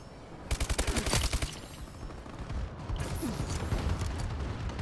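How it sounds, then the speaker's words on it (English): Gunfire and explosions from a friendly bombing run in a multiplayer shooter, a rapid burst of repeated shots followed by more scattered blasts, faint and distant, with no talk. "Friendly bombing run incoming."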